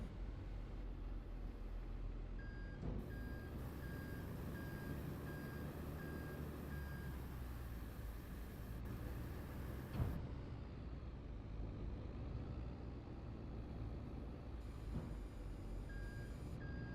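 Truck from Farming Simulator 25 backing up, emitting a regular series of faint, evenly spaced reversing beeps over a low steady engine hum, pausing and resuming later.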